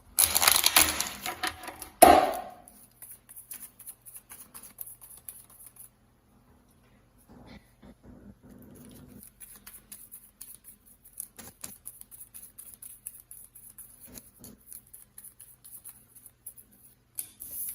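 Tarot cards shuffled by hand, a rapid burst of riffling at the start followed by sparse, quiet taps and flicks of cards, close and faint with no voice.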